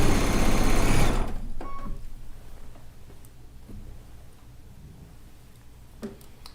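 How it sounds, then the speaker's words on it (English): A sewing machine stitches down the edge of a large log cabin quilt, a loud steady whir at the start that stops after a second, leaving quiet taps and handling noises of the fabric being fed through. "Let's get this edge sewn down here."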